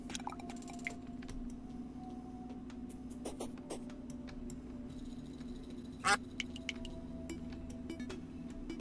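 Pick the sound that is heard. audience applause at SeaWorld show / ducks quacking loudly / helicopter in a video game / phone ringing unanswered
ducks quacking loudly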